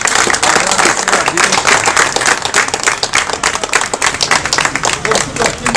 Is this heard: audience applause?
yes